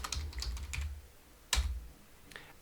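Computer keyboard typing while a file of authorized keys is edited: bursts of quick clicking keystrokes, a run of taps followed by a sharper single press and a couple of lighter clicks, close and fairly quiet.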